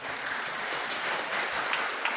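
An audience at a university graduation ceremony applauds warmly, a dense, even patter of many hands clapping steadily throughout.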